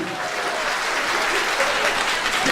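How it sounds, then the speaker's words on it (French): Audience applause at a political gathering in Brussels, steady crowded clapping that swells slightly toward the end, filling the room with no clear speech over it. "Applaudissez pour lui"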